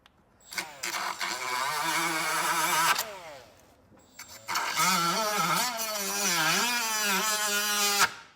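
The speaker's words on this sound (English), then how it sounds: "It's a good die grinder, but it's just not strong." A die grinder trims plastic near a coolant bottle on a Can-Am X3, whining up to a high pitch in two runs that wobble under load, separated by a brief stop.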